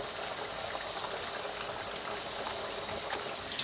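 Chicken bread kababs deep-fry in hot oil with a dense, even bubbling crackle, soft and continuous with scattered tiny pops and no voices.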